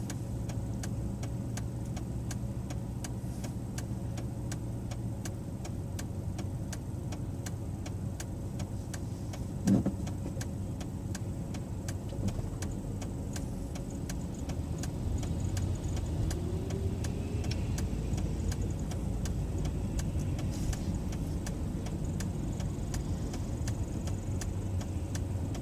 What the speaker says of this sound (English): Definitely hear the V8 in it.